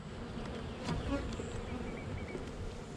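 Honey bees buzz steadily around a hive in a queenless colony with a light population, a close, continuous insect drone that swells briefly near the middle and holds at an even level throughout.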